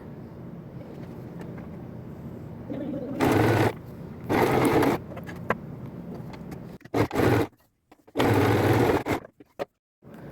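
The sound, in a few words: sewing machine stitching a tuck along a drawn line on fabric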